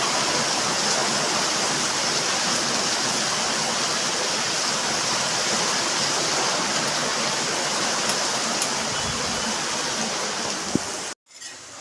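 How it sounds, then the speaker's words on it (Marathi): Heavy monsoon rain pours steadily outside in Mumbai, a dense, continuous broadband hiss at constant loudness for about eleven seconds, ending in a sudden cut with a brief thump. "बाहेर मस्तपैकी पाऊस पडतोय"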